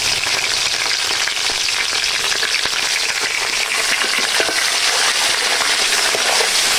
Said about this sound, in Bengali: এটা ছিল রান্নার অরিজিনাল সাউন্ড।